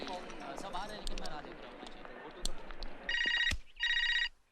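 Telephone ringing indoors, two loud electronic ring bursts near the end following a stretch of background sounds and movement.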